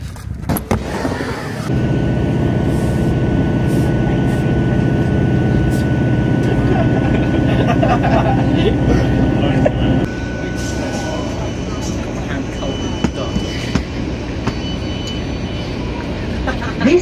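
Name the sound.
train running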